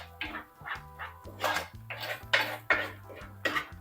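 Spoon scraping and clanking in a pan as sautéed onion, ginger and garlic are stirred, repeated metallic knocks in a steady rhythm, close and fairly loud, no talk.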